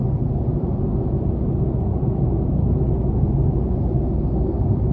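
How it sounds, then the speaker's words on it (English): Steady low road rumble and tyre drone fill the cabin of a 2021 Chevy Spark with a 1.4-litre engine while driving, a constant, even noise with no talk. "the road noise is actually not as bad as I would expect from a car"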